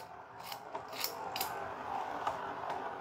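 A Dragoon G Beyblade with a working engine gear spins, giving a steady close whirring grind with light metallic rattles and scrapes throughout.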